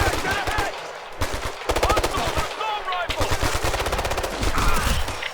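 Ghost Recon Future Soldier gunfire erupts in rapid automatic bursts, loud and close, broken by short pauses, with faint in-game chatter in between.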